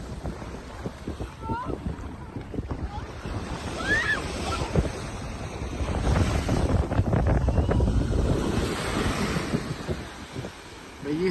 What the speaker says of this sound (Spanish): El mar tiene un poquito de oleaje porque está arreciando un poquito el viento